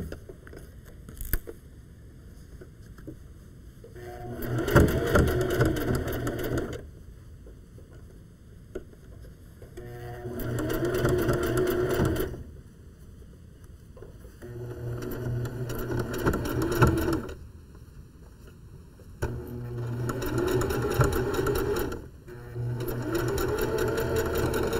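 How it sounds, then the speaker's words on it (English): A sewing machine stitches slowly through four thick layers of fabric for wool mittens, running in four or five loud mechanical bursts of a few seconds each with short quiet pauses between them. "you're sewing through four layers of fabric right there, so it is kind of thick, but if you go slow, you'll be fine."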